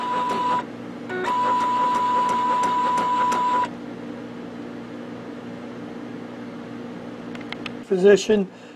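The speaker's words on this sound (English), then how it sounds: "now the cartridges are going to come over to what we call the cartridge change position." An Epson Artisan printer shifts its ink cartridge carriage to the change position, giving a loud steady mechanical whir with a faint tonal whine for a few seconds, then quiet, and a brief clatter of movement near the end.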